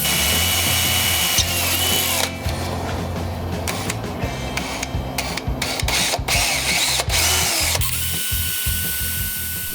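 A power drill with a number 36 bit whirs loudly and steadily, its pitch wavering and briefly bogging down as it bores through aluminum, with clicks and rattles throughout.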